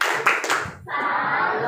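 Students at a school traffic-safety outreach session perform a short rhythmic salute clap, a few quick group claps followed by sustained crowd noise with some voices.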